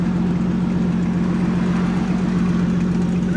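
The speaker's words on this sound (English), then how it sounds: "Just a catback exhaust." A car modified with a catback exhaust idles steadily nearby, a constant low droning rumble with no change in pitch and no voices.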